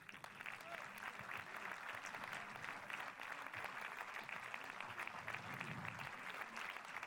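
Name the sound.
audience applause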